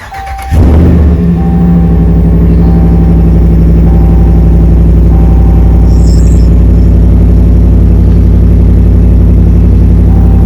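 A car engine cranks and catches within the first second, then settles into a steady, loud, close idle with a constant low hum that barely varies, recorded during PCM tuning work.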